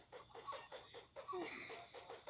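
Chickens in a video game cluck in a quick, uneven series of short calls, several birds overlapping at a fairly quiet level with no talking.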